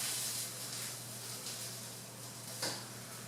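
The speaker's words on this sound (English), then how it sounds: "That sizzling sound, that's the sound of love, baby." Steady, quiet frying hiss with a low hum underneath, plus a brief louder crackle near the end; no voices.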